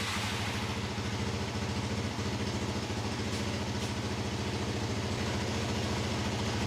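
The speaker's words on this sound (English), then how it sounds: "So, time to see if a hot start would happen." A 1989 Honda NX250 motorcycle engine idles steadily after a hot start, a close, even low-pitched putter with a fast regular pulse and no voices.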